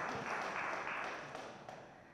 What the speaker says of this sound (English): Might we please give our panelists a round of applause?